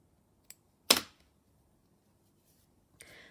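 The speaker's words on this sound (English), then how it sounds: "So just pull this stitch through a bit and cut it." A single crisp scissor snip cuts through crochet yarn up close in a quiet room, with a tiny click before it and a soft rustle of handling afterward.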